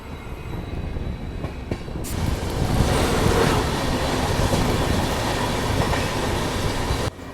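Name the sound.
Ajmer Agra Fort Express train passing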